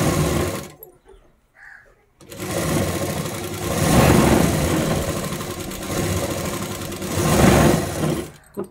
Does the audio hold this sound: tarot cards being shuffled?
no